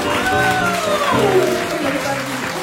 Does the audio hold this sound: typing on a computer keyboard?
no